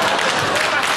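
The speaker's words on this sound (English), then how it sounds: "hold the applause" Studio audience applause in the sitcom scene with Al Bundy, a loud, dense wash of clapping filling the whole moment without a break.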